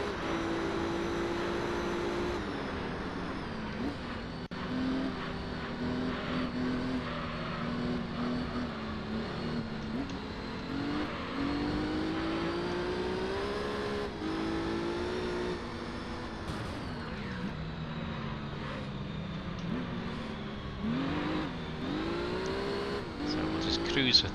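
A Renault Clio race car engine in Gran Turismo 3 drones steadily at high revs, its pitch rising and dipping through gear changes and corners, with other cars close by and someone talking over it.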